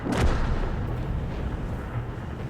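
A single heavy self-propelled artillery gun fires in a tank game, one loud boom near the start that rolls off into a long, low rumbling decay.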